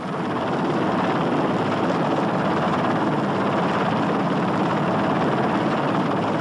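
A steady, loud whirring drone of a helicopter and an ultralight aircraft flying overhead, with the helicopter's dense rotor chop and engine noise continuous throughout, no voices.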